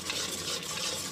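Ground spices, including a spoonful of panch phoron powder, stir-fried in a pan for a potato and dal dish, giving a steady close sizzle with soft scraping of the spatula throughout.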